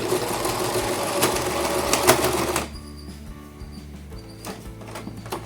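A sewing machine stitches a baby blanket, running in a steady, busy whir for a couple of seconds before dropping to quieter, slower mechanical ticking.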